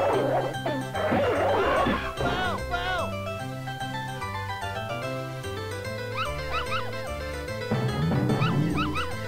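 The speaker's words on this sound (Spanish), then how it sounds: "Uy, pero tanto perro, loco." Dogs bark, yip and whimper repeatedly in the video game Earthworm Jim 2, loud and steady alongside upbeat game music, with someone talking over parts of it.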